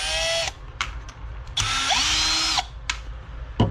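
A power drill whirs in short bursts as screws come out of a Traxxas Bandit RC car, the motor pitch rising and falling between stops, close and fairly loud, with no voices.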